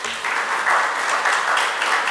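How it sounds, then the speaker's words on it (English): An audience at a panel event on advertising agencies and AI breaks into a dense, steady round of applause that holds at an even, fairly loud level throughout. "A huge round of applause for them."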